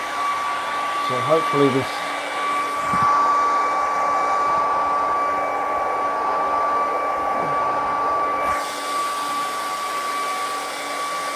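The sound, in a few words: hair dryer drying a painting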